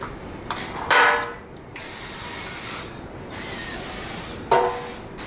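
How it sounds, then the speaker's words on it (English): Two short bursts of avocado oil non-stick cooking spray hit a well-used 9 by 13 casserole dish, the first longer hiss near the start and a second brief spray at the end, close and clear with quiet between. "I'm gonna go ahead and use the avocado spray."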